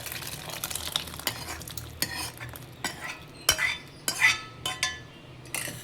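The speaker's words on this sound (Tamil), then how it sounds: "இதை இறக்க போகிறேன். இந்த வேறு ஒரு பாத்திரத்தில் மாற்றிக்கிறேன்" Boiled Brahmin-style small onion and garlic vatthakuzhambu is moved into another vessel with a metal ladle or spoon, giving scattered scrapes, clinks and soft liquid splashes against the pot, close and alone without talk.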